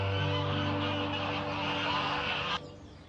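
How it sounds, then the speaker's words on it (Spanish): Ducks in gardens in Valencia give a drawn-out, nasal honking quack, a fairly close, steady call that cuts off suddenly, leaving faint background noise. "los patos no quieren ser menos"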